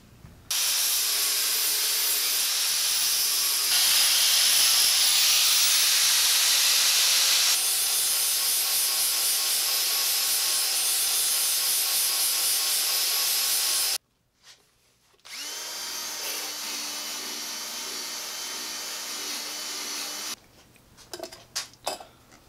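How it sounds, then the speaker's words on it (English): Steel welds being ground off a homemade steel Telecaster-style guitar body: a loud, harsh, continuous grinding that runs about thirteen seconds, stops briefly, then resumes for a shorter second pass before trailing off. "so now I gotta go back and grind them off"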